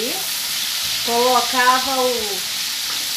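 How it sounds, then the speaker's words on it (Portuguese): Food sizzles and fries on a disc pan (disco) while feijão tropeiro cooks, a steady hiss with a brief voice speaking over the middle. "tem que ficar esperto que o disco ali tá fritando"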